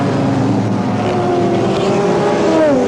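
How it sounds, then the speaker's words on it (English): Ford Cosworth 2-litre four-valve BDG-powered Escort sports sedan racing in 1985 at Adelaide: a loud, continuous engine drone with a slowly rising pitch, close and unbroken, no talk. "Monterosso's car, a Escort in silhouette, but powered by a Ford Cosworth 2-litre 4-valve engine."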